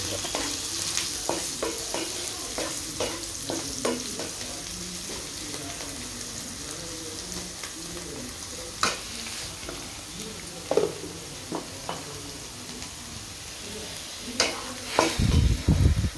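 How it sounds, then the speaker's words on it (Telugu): Chilli powder fries in a pan under a steady, hissing sizzle, broken by light, irregular stirring taps and scrapes. A brief louder clatter comes near the end, and no one speaks. "అది కారం వేసి ఫ్రై చేస్తాను"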